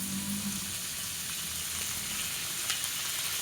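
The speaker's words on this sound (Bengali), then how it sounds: "এই ডুমুরটা আমি খুব সুন্দর করে তেলের মধ্যে ভেজে নেব" Figs frying in oil give a steady, close sizzling hiss throughout, with a faint tap or clink near the end and no talking.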